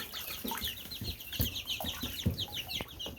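Young chicks cluck and peep busily while they feed, a soft cluster of overlapping chirps with faint rustling and a few wing flaps.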